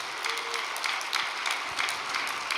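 An audience gives warm applause at a gathering, dense continuous clapping from many hands filling the room at an even level throughout.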